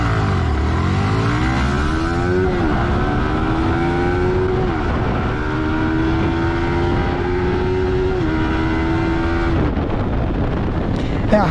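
A Yamaha R15 2024 and a Honda CB 250 Twister motorcycle accelerate hard in a drag race, engines loud and close, rising in pitch through several gear changes before cutting off.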